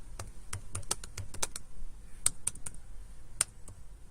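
Code being typed on a computer keyboard: irregular bursts of crisp, close key clicks and clacks at a quiet level, with no voices.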